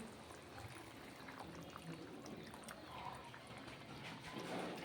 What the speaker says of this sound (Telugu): హాట్ వాటర్ పోసేస్తున్నా మటన్లో హాట్ వాటర్ పోస్తున్నా